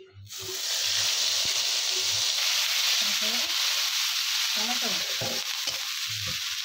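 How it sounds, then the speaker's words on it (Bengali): Green chili and onion paste dropped into hot oil left from frying katla fish, bursting into a loud, steady hiss and sizzle that holds for several seconds with faint utensil knocks underneath. "দিয়ে দেব কাঁচা লঙ্কা আর পেঁয়াজ পেস্ট,"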